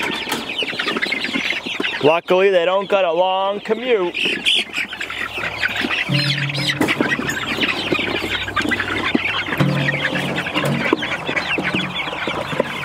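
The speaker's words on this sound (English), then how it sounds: "we're gonna move this batch of chicks to their new chicken tractor" Batch of young chicks being moved to a new chicken tractor, peeping and clucking with rising chirps and squawks amid constant farmyard noise, while someone talks over them.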